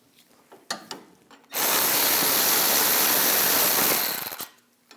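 Caliper bracket bolts on the rear brake of a 2015-2022 Chevrolet Colorado are loosened with an 18mm socket on a power tool, a loud steady whir running about three seconds after a few light clicks, then cutting off.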